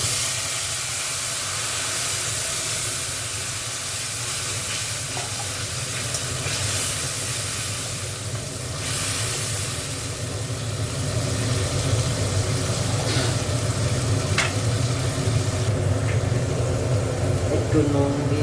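Tomato, green chili and onion paste sizzles in a hot pan, a steady close hiss and spatter that holds throughout and grows slightly louder toward the end.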